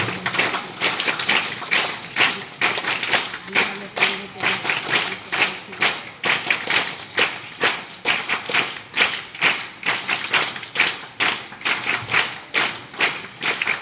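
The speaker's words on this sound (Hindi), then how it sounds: "जोर से ताली बजाइए।" Loud, steady clapping from an audience at a ceremony marking the 175th foundation anniversary of the Claretian congregation, dense and continuous with a slightly uneven pulse across the whole stretch.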